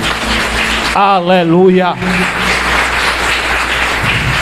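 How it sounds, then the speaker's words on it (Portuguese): A church congregation applauds in a steady, loud wash of clapping, broken briefly by a voice that speaks over it. "Aplauda o Senhor,"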